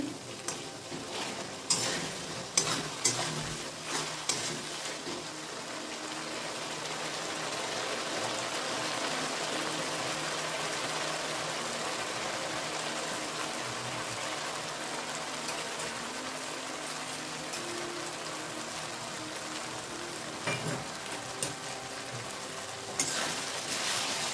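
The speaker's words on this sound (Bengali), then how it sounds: "মশলাটা কষিয়ে নিচ্ছি" A spice paste for Bengali aloo dum fries and is stirred in a pan, with a steady, close sizzle and scraping strokes from the spoon, louder at the start and end, and no voices.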